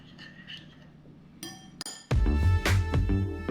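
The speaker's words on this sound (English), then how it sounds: "Mix thoroughly until it's combined into one lovely sauce." Glass or ceramic clinks and scraping as dashi stock, oyster sauce, tianmianjiang and sake are mixed together in a bowl, starting as faint taps and turning into louder, busier clattering of utensil against bowl.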